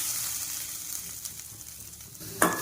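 Grated coconut sizzles steadily in hot coconut oil in a pan, a dense continuous hiss close up, with a sharper crackling flare near the end.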